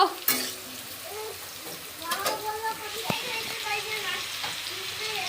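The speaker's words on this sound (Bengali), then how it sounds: "আর ফুলকপির জন্য আলু ভেজে নিচ্ছি আগে" Potatoes frying in a home kitchen pan for a cauliflower curry, a moderate sizzle with stirring, under someone talking.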